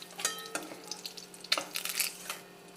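A fish head fries in hot oil, a close, uneven crackling and spitting with sharp pops and short bursts of sizzle that fade toward the end.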